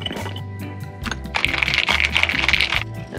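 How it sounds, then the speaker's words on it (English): Ice cubes drop into a cup while a homemade pink drink with freeze-dried strawberries is being made, sharp cracking and clinking up close, followed by a burst of crackling as the cubes settle. "Now we're gonna go ahead and add some ice."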